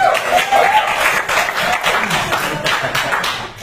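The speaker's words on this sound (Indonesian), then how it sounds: "Tepuk tangan dulu" A crowd at a school year-end closing event claps together in sustained, even applause, fairly close and dense, tapering slightly toward the end.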